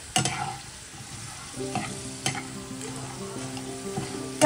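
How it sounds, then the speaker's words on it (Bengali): French fries fry in hot oil in a home kitchen, a close crackling sizzle that swells as they go in, with a few sharp clinks and stirring taps over the steady bubbling and no voices. "তো চলো ফ্রেঞ্চ ফ্রাইসটা ভাজি"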